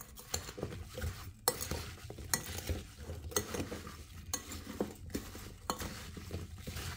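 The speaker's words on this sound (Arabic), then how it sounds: "معلقتين قرفة ورح حركهم مزبوط" Ground cinnamon stirred into a cake mixture for an apple-cinnamon cake, heard as repeated close scraping strokes of a utensil against a bowl in a steady rhythm, with no voices.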